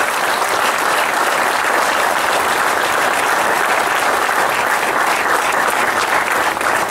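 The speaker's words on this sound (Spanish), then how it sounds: "Yo le pido un aplauso a ellos" An audience applauds at a union event inaugurating a hall, dense and sustained clapping that fills the whole stretch at steady loudness, with no talk over it.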